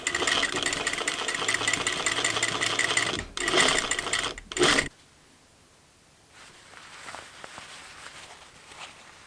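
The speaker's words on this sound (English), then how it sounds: "Stitch in the ditch on the face of the fabric." A domestic sewing machine stitches in the ditch through a blouse cuff on the face of the fabric, running in a loud steady whir with brief stops and restarts, then falling quiet with faint handling noise.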